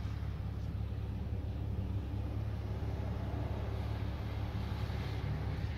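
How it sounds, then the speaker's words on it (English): A car passes by on a wet, rainy road, heard as a steady broadband hiss of tires on water with a low engine rumble and some wind buffeting, continuous and fairly close. "As soon as this car passes"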